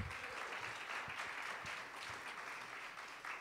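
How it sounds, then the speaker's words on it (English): Lecture attendees give a round of applause to a man who answered a question, making soft, even clapping that carries on without a break. "let's give him a round of applause"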